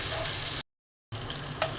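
Chopped onions fry in oil in a cooking pot, giving a steady close sizzle that cuts to silence for about half a second, then resumes with a faint clink.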